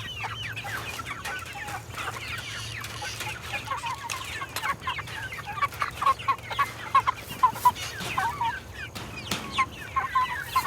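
Meat chickens clucking in a flock, a busy run of overlapping clucks and short squawks from several birds nearby, growing louder and more rhythmic toward the end, with a low steady hum underneath.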